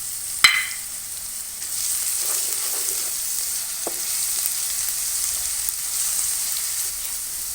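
Garlic sizzles in a pan of golden fried onions, a steady close frying hiss that starts with a sharp clink as it is added and continues evenly, with occasional faint stirring scrapes.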